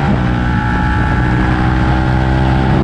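A KTM 1290 Superduke R motorcycle engine runs loud and close at a steady, rumbling pitch as it warms up, with no pause and no talk.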